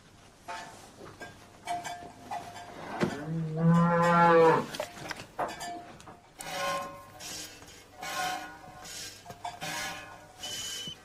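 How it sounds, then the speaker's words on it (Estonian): A cow lows in a barn during milking, one long loud moo in the middle followed by several shorter calls and barn clatter, with no speech. "Ma olen laudas, lüpsan lehma praegu."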